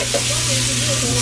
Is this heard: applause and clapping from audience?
no